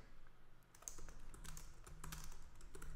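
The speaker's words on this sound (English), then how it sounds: "I'm just going to type in something else" Steady typing on a computer keyboard, with rapid close key clicks running continuously at low volume and no talking.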